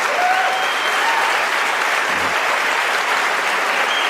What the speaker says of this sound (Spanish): apláudelo, ¿verdad?